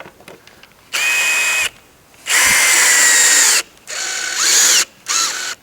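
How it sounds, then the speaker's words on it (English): A power drill drives a small screw to pull a hex plug into a DynaCon conveyor, several loud whirring bursts of varying length separated by pauses, close and clear with no talking. "I could use one of these little screws to pull it in."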